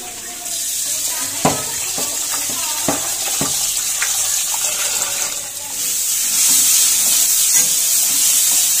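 Raw chicken washed under a running kitchen tap, with a steady close hiss of water and scattered splashes and knocks as the pieces are handled, growing a little louder toward the end.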